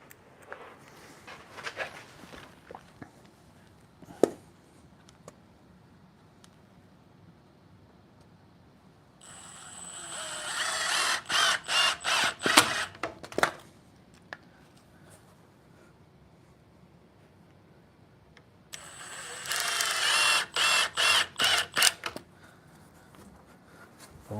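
A power drill drives screws during a basement suite build, with two bursts of whirring and sharp buzzing, each a few seconds long and broken by stops and starts, amid quiet rustling and knocks.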